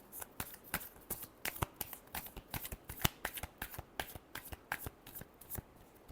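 Tarot cards being shuffled during a Virgo weekly reading, a quick run of crisp riffling snaps and soft slaps, close and fairly quiet, with no voices.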